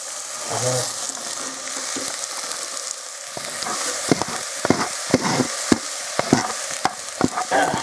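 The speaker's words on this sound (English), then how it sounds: "Once these are nicely fried up" Stuffed cabbage rolls fry in a hot pan with a steady close sizzle, punctuated by a series of sharp clatters and scrapes as the rolls are nudged and shifted around, with no talking.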